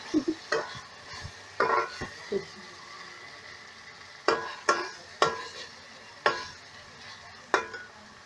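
Dal being roasted in a pan over medium-high flame, with a low sizzle under a series of sharp spatula scrapes and taps, a cluster early on, then spaced strokes later, close and with no talk.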